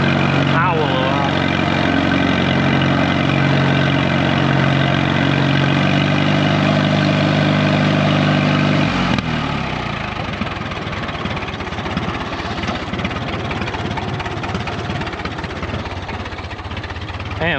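A 1936 barn-find tractor engine idles loudly and steadily with a deep, even throb, its rhythm shifting to a rougher, choppier beat partway through; no one speaks.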